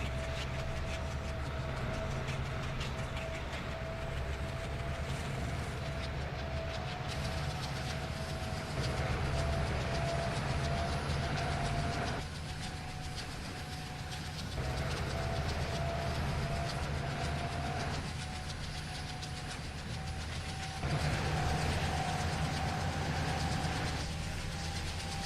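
A heavy oil train runs in the simulator game Trainz 2019, giving a continuous loud rumble with a droning engine tone and faint rail clatter, holding steady with slight surges and no talk.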